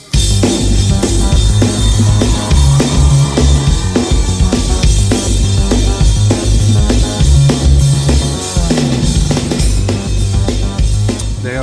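An 18-inch full crash cymbal on a drum kit rings out in loud, dense playing, its bright wash riding over heavy drum hits and a driving backing for the whole stretch.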